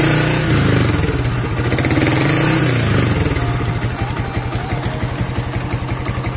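A Yamaha New Vixion Lightning motorcycle engine fitted with a Juken 5 Dual Band ECU revs loudly up close, holds a high rev, then drops back to a steady, rapid idle thrum.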